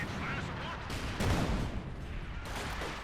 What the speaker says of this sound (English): artillery fire there against the lightest Infanteriegeschütz